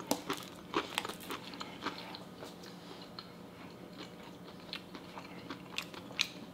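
Crunchy Texas toast being bitten and chewed up close, with repeated crisp crackling bites and crumbly chewing textures in an irregular rhythm, fairly quiet and with no talking.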